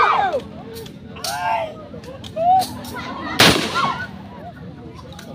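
Gunshots during marksmanship training at a firing range: one sharp, loud report midway, with a few fainter cracks around it, as people talk and call commands throughout.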